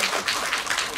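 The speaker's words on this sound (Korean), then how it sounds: "우리 정덕권 우리 회장님 다시 한번 인자 박수 부탁드릴게요" Brief burst of audience applause at a global citizenship speech contest, dense even clapping from a seated crowd heard on its own.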